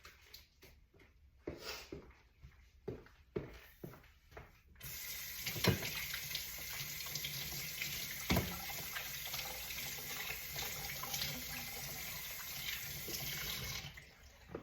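Tap water runs steadily into a sink during handwashing, starting after a few seconds of quiet clatter and continuing as a loud, even rush with small splashes for about ten seconds before stopping.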